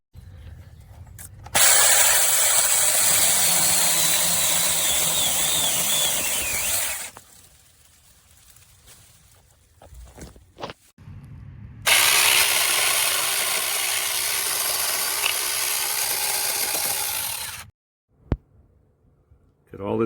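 An RLSOO 6-inch cordless mini chainsaw buzzes loudly with a harsh rattling whir while the trigger is pulled, in two long bursts separated by a quieter pause with brief clicks.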